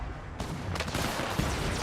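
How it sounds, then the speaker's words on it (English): Gunfire crackles through an Apex Legends pro league match, a dense burst of shots that starts abruptly and keeps rattling in a steady, loud wash. "it looks like they're also under a little bit of gunfire as well"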